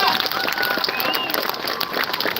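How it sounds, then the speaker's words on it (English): Audience applause for a longtime behind-the-scenes sound man at a live event, a steady dense patter of many hands clapping with crowd murmur mixed in, sustained and even throughout. "Let's give him a big applause."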